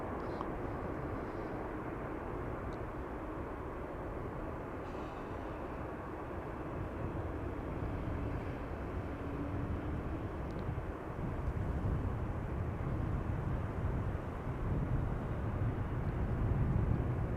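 A Singapore Airlines A350 taking off from runway 09 at Amsterdam Schiphol Airport, a broad, distant jet roar that holds steady and swells toward the end, with no talk over it.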